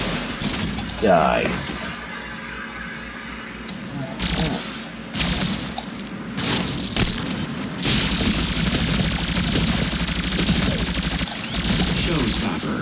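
Gunfire and booming explosions from the Doom PC beta multiplayer come in uneven clusters of shots and blasts, growing into a sustained loud barrage in the second half. A player talks throughout.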